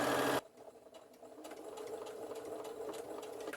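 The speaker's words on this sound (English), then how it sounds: "I'm just going to sew a seam across here" A sewing machine stitches a seam across a fabric lanyard, starting with a short loud burst, then settling into a steady, close mechanical whir with rapid needle ticks, no voices over it.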